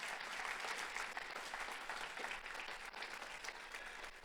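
A church congregation applauds steadily, with dense, sustained clapping from many hands that stays fairly distant and moderately faint throughout.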